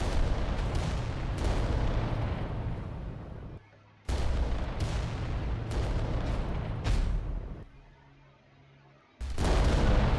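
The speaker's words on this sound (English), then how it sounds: "We only have one volcano cannon, so pretty unlikely we'll take him out." Heavy volcano cannon blasts from the Adeptus Titanicus: Dominus tabletop game, several loud booming shots, each followed by a rumbling tail and brief quiet gaps between them.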